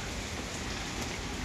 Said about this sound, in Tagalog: Napaka-ulan.